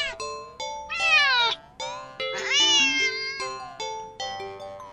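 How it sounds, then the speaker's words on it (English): Cat meowing sharply: a run of loud, close meows, several short and two drawn-out wailing ones, each with a rising then falling pitch and bright harmonic tone, in an otherwise quiet room. "the cat meows sharply at you and dashes off"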